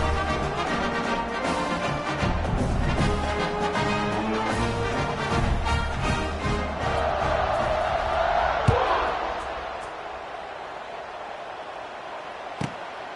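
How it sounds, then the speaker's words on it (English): A college football stadium crowd roars and cheers steadily through a kickoff, loud and broad, with a couple of sharp thumps and the noise easing toward the end. "this crowd is feeling themselves after that last drive"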